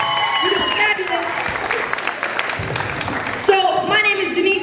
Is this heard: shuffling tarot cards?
no